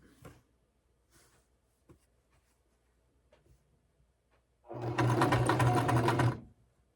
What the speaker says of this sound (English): This is called chain stitching. It makes putting things together a lot easier, quicker.